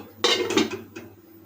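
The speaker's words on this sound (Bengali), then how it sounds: "তাই আবার কিছুক্ষণের জন্য ঢাকনা দিয়ে দেব" A lid goes onto a kadai of sanchi leaves and lau stalks with a loud, close metallic clank, a short rattle, then a lighter tap as it settles.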